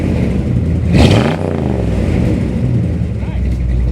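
A 1970 Buick Riviera's big-block V8 rumbles loudly, surges as it passes close by, then its deep roar fades while voices are heard over it.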